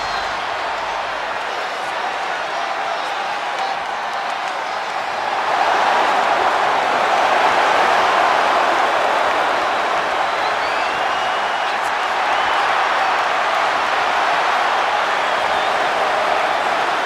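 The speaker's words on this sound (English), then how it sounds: "feeding off the electricity of this crowd" A big arena crowd at a WrestleMania event in the WWE 2K25 wrestling game roars steadily the whole time, swelling louder partway through and holding a dense, sustained wash of cheering with no clear voices on top.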